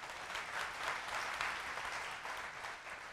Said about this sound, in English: Hey, two rounds of applause, one for Jordan.